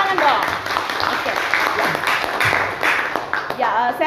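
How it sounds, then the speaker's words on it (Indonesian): Audience clapping and applause in a lecture setting, a brief burst of claps mixed with talking and voices throughout. "Oke, berikan tepuk tangan dong."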